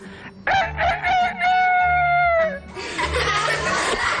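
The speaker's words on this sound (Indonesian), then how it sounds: "yang setiap pagi terbangun karena kokokanku" A rooster crows loudly and close, one long drawn-out call with a rising start and sustained tone, followed by a noisy, rougher burst of sound.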